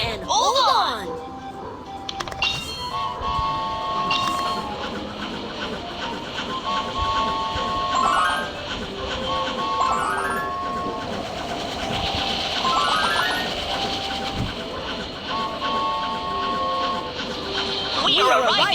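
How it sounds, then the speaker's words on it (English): Toy-like train from the Babybus children's school bus train game rolls along under bright chiming game music, with a soft steady rumble and short whistle-like tones, while a voice talks over it throughout. "The train is about to turn. Please sit tight and hold on."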